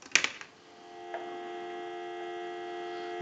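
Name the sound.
telephone dial tone on a line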